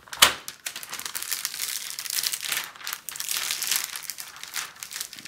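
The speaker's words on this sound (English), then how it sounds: "Let's fold back the protective cover." A plastic protective cover being folded back from a glossy, sticky diamond painting canvas, giving a sharp crinkle at the start and then a steady, close crackling and rustling of plastic peeling from glue, with no talking.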